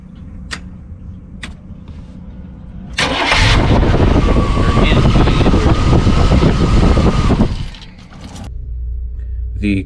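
An RV engine with a failing, separated harmonic balancer cranks and fires up, then runs loud and rough with a rattling knock for several seconds before cutting back to a quieter idle.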